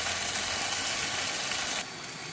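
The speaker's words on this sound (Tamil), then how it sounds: "இதை நம்ம நல்லா வறுத்து விட்டுக்கலாம்" Chicken curry ingredients fry in a pan with a steady broadband sizzle and crackle, continuous and fairly loud, dropping abruptly to a quieter sizzle near the end.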